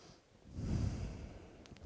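Slow, audible breaths during a yoga pose in a guided flow session, a soft exhale swelling to a heavier, close breath before easing off, faint and with no talking.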